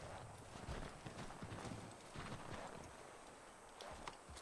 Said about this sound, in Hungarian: kiválasztom a lovat